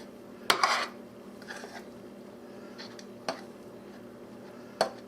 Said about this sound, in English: So we're going to stir it in.